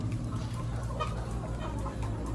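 RTL hens cluck steadily in a coop, a continuous, moderately quiet farmyard murmur of overlapping hen calls with no speech.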